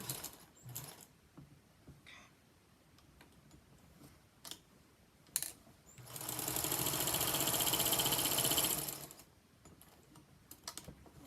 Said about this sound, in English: It's this walking foot is real metallic-y sounding.